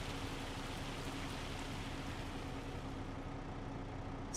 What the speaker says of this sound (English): It's pouring outside. And in farm sim, it's pouring in both,